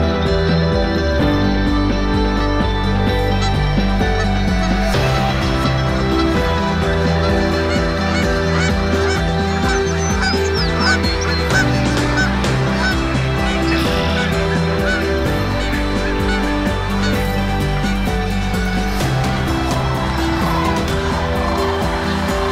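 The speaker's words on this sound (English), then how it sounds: "all the birds in the marsh get excited. And they start calling and flying and moving around." Dense chorus of marsh birds, geese honking among them, calls and flight at sunrise over Horicon Marsh in Wisconsin, loud and continuous with many overlapping calls near and far.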